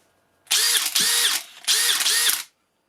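Makita 40v Max HP001G cordless hammer drill running in short bursts at its lowest electronically controlled speed setting, three close, loud whirring pulses with brief gaps between them.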